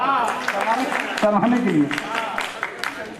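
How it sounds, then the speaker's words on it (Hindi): Audience applause for an honoree at an awards ceremony, a patter of clapping running beneath someone speaking over a microphone, moderately loud and steady. "इनके लिए तालियां"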